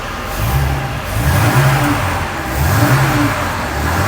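Engine of a Mercedes R107 SL with a cutting-out and backfiring fault, revved in repeated rising and falling surges over a steady running note, close and loud with no talk.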